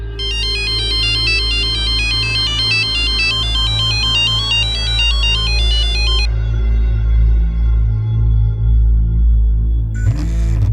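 A phone ringtone plays a steady repeating electronic melody for about six seconds, then stops unanswered, over a low continuous hum with a brief tone burst near the end.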